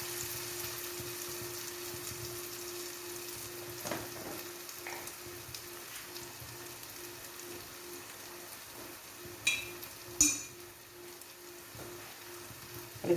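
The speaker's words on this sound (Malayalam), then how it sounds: "ഇനി ഇതിവിടെ ഇരുന്ന് നന്നായിട്ടൊന്ന് വഴന്ന് വരട്ടെ." Pork roast sautéing in oil in a pan, a steady soft sizzle running throughout with a few louder clinks and stirring bumps near the end, close and alone without talk.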